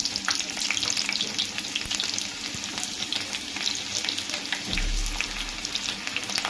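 Onions and garlic frying hard in oil in a pan for Andhra-style dal tadka, a steady dense sizzle and crackle with occasional stirring scrapes, close and continuous with no talking.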